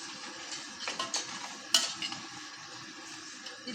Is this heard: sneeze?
no